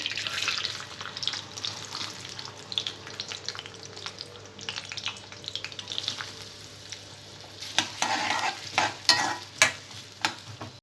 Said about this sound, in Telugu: ఆయిల్ వేడిన తర్వాత ఉల్లిపాయ ముక్కలు వేసుకోవాలి